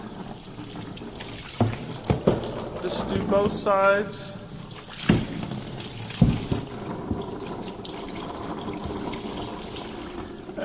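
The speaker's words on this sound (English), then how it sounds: "Pour some water on it." Tap water runs from a laundry-style sink over a printmaking screen, a steady splashing wash with bursts of gushing, under a person speaking briefly.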